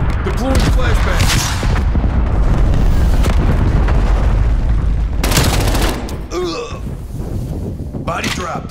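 In the Call of Duty Black Ops Cold War multiplayer match, incoming artillery shells land in heavy booming blasts that rumble continuously for several seconds, followed by quieter battlefield noise and short bursts of gunfire.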